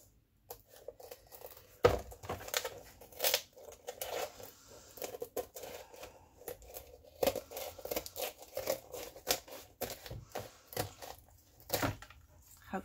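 Scissors cut a cardboard cover along a crease, in irregular snips and crinkling rustles with short pauses, close and fairly quiet.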